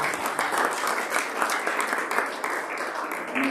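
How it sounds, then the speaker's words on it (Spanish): Church congregation applauding steadily and fairly close, a dense wash of clapping that holds even for a few seconds without a break. "Hay que dar un aplauso al Señor."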